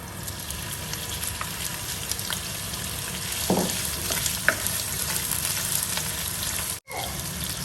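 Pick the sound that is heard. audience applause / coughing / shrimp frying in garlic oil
shrimp frying in garlic oil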